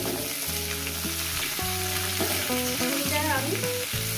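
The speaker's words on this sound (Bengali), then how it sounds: "আমি ভালো করে সুন্দর করে ভেজে নেব, মিনিমাম 5 মিনিট ধরে আমি ভেজে নেবো এই সবজিটাকে।" Eggplant and mixed vegetables fry in oil in a pan for a spicy Bengali chachchari, a steady close sizzle throughout, with background music playing over it and no talking.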